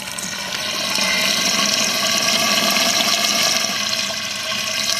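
Water from a hose runs into a self-watering vegetable container, a steady close hiss and gurgle of filling that swells slightly and holds for the whole stretch, with no talking.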